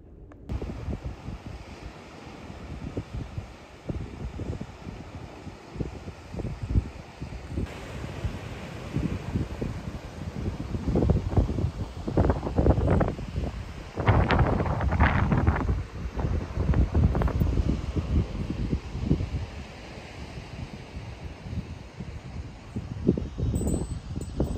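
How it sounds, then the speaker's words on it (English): Strong ocean wind buffets the microphone in gusty, rumbling waves, with faint surf and rustling underneath, loud and continuous throughout with no talking. "So the wind was supposed to magically stop at 7, and it's better."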